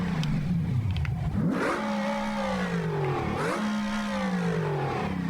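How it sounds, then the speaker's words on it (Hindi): A video game car's engine revs continuously at close range, its pitch sweeping up and down through repeated rising and falling whines with no gaps and no talk, the car stuck on an extreme downhill course with a broken gearbox. "गाड़ी का इंजन काम कर रहा है नो डाउट, बट वो इंजन टायर को पावर नहीं दे रहा"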